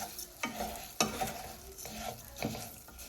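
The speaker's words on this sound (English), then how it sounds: "you really need to just stir to make sure all of the grains get some oil on them" A spoon repeatedly scrapes and stirs white rice grains through hot oil in a pan, producing several distinct scraping strokes over a soft, steady sizzle.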